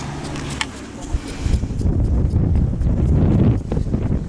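Strong wind buffets the microphone in a steady, roaring rush near the North Sea coast, with some faint rustling early on and the gusts growing heavier toward the end.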